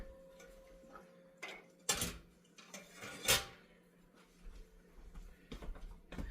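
Tablespoon lifted from a dish drainer in a home kitchen: a few sparse metallic clinks and light clatters, with one louder knock near the middle, all close and distinct against a quiet room.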